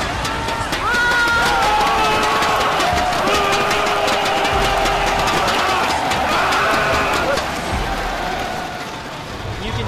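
A large crowd at an esports gaming event roars and cheers continuously, a loud dense wash of voices with whistles and shouts over a booming arena, lasting throughout.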